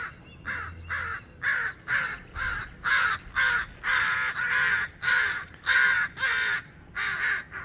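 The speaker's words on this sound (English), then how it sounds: "I got yelled at by the crows today" Crows caw loudly in a steady string of harsh repeated calls as a warning, around fifteen sharp caws in quick rhythmic succession, close by and with no talking.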